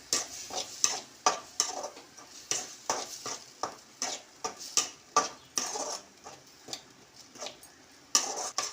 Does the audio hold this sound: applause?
no